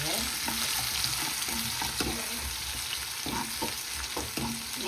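Mustard seeds, urad dal and onion sizzling in hot oil in a pan for a Tamil dhal fry, a constant crackling hiss broken by periodic scraping stirs of the spoon.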